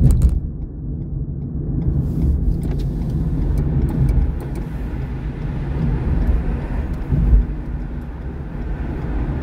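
A car accelerating during a driving lesson, heard from inside as a low, steady engine rumble that swells gently, with road noise and no talking.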